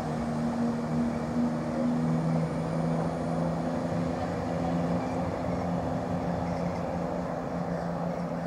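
A passenger train pulls away from Ely station bound for Stansted Airport, a steady rumbling engine drone with a faint tonal hum, heard at moderate distance and fairly constant throughout.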